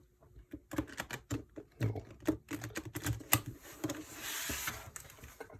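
Tarot cards are shuffled by hand in a series of quick, crisp clicking and flapping bursts, close and fairly quiet, ending in a longer rustling riffle.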